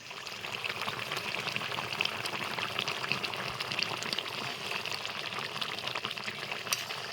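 Katla fish kalia curry simmers in a covered pan, giving a steady, dense sizzling and bubbling hiss with fine crackles that runs evenly and fairly close throughout, with no talk.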